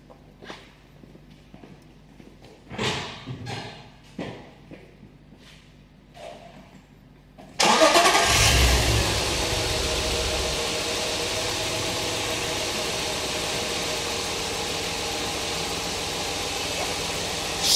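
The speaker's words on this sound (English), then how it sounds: "Let's start up the car." Car with an ignition coil fault being started: a few handling clunks and clicks, then the engine cranks and catches abruptly, settling into a steady, loud idle that continues to the end.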